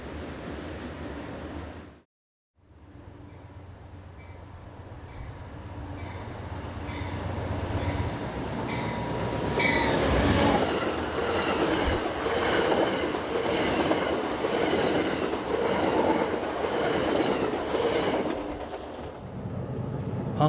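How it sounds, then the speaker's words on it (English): A heavy train accelerates past a station platform in Eastern Virginia, a loud, steady rumble of rolling wagons with rhythmic clickety-clack wheel beats and a brief high squeal, building and holding for the length of the pass. "The heavy accelerating train made the platform bounce considerably."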